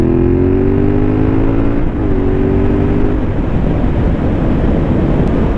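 A Yamaha MT-07 motorcycle engine pulls hard at full throttle, its pitch climbing steadily over loud, constant wind rush with no talking.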